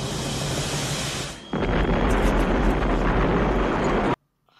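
Loud explosion from the 1986 film Aliens: a sustained, roaring blast of broadband noise that swells abruptly partway through, holds at full force, then cuts off sharply into near silence.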